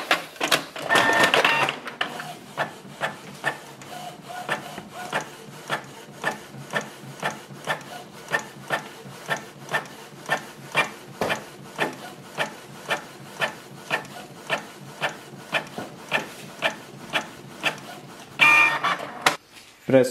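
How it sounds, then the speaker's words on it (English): A Canon Pixma G620 inkjet printer runs a test page, its print head sliding back and forth in a steady series of evenly spaced rubbing passes, fairly close, framed by louder paper feed noise at the start and end. "You can click on the test print."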